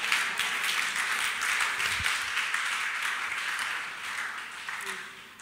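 A church congregation claps steadily through a bishop's sermon, a dense continuous patter of many hands at moderate loudness with no break.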